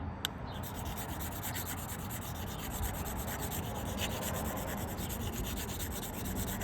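A CPM-10V steel knife worked against a sharpening stone, steady continuous abrasive rubbing and scraping of steel on stone, close and even, with no talking.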